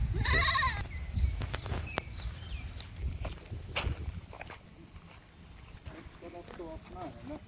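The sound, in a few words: sheep bleating on a sheep breeding farm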